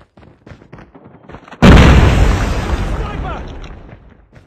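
A grenade explodes in Call of Duty Mobile: one sudden, loud, close blast that rolls off into a long decaying rumble, after soft chatter and movement sounds.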